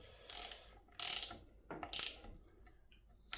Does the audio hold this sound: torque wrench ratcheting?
yes